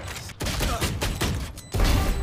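A burst of gunfire in the video game Valorant, several loud rapid shots in quick succession with short gaps, close and forceful, with no talking.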